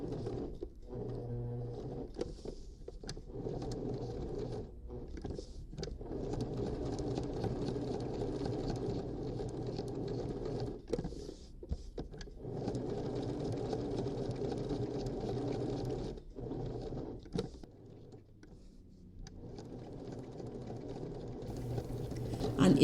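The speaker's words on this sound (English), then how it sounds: "I've decided to top stitch all this with my triple stitch" Sewing machine top stitching a tote bag with a triple stitch, a continuous busy mechanical whir and rapid needle clatter that stops briefly now and then, with a voice talking over it.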